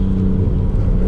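Nissan R33 Skyline GTST engine running loud and close, a dense, continuous low rumble with a steady revving drone across the whole short stretch.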